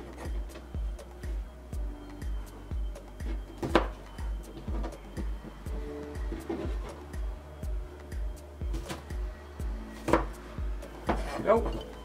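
A kitchen knife chops food diagonally on a cutting board in a steady, even rhythm of roughly two cuts a second, close and crisp, with occasional louder knocks from the board.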